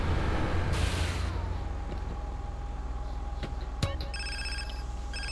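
A phone rings in a Grand Theft Auto game after pulling over, a bright repeating electronic ring over a steady engine-like hum, with a short sweep at the start.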